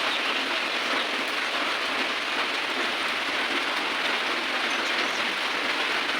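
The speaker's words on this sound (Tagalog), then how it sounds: "Ayan o, ang ulan." Steady rain pours down, a dense continuous hiss of drops on surfaces with no voices, unchanging in intensity throughout.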